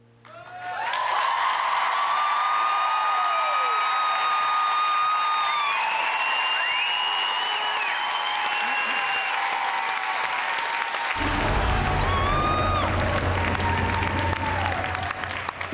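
A studio audience bursts into sustained applause and cheering after a live song on The X Factor UK, loud and continuous clapping with scattered whistles and shouts carrying on for many seconds.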